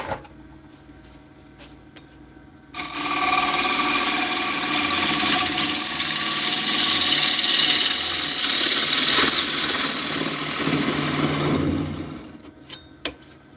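A wood lathe turns a spalted maple blank at about 1200 RPM, a loud steady whirring hum with broadband rushing that starts abruptly after a quiet lead-in and drops away near the end.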